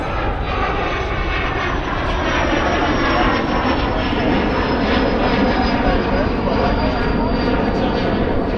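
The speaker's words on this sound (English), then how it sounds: "Similar time, a private jet takes off." A private jet taking off near a harbor, a loud sustained engine roar that holds steady at close range, with a voice talking underneath.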